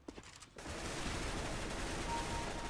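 A PP-Bizon submachine gun sprays sustained automatic fire in Counter-Strike: Global Offensive deathmatch, a dense continuous rattle that starts abruptly after a few faint shots and keeps going to the end.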